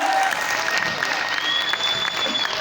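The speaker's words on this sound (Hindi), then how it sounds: "जोरदार तालियां होना चाहिए, जोरदार तालियां।" Loud audience applause at an award recognition speech event, dense steady clapping from a crowd filling the whole short moment, with faint voices mixed in.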